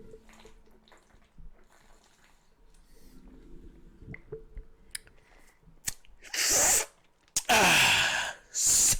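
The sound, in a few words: person drinking water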